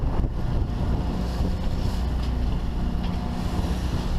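Sailboat on Lake Erie pushing through waves, a steady rush of water and wind noise with a few sharper slaps of the hull against the chop, continuous and fairly loud.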